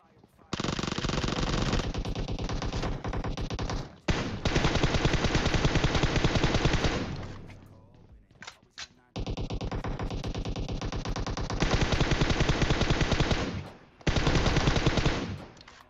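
An UZI fires in PUBG Mobile gameplay, long loud bursts of rapid automatic gunfire broken by short pauses, dense and close throughout.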